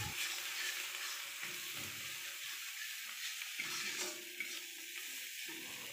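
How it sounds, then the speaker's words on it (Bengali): A spice paste with ground nut paste fries in oil while being stirred, making a soft, continuous hiss of sizzling with faint scraping throughout, quiet and close, with no voices. "বাদাম বাটাটা দিয়ে আবার ভালো করে মশলাটাকে কষিয়ে নেব।"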